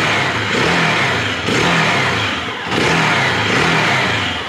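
A Hero XPulse 200 off-road motorcycle engine revs loudly up close, with three sustained throttle blips separated by brief dips back toward idle, no talking.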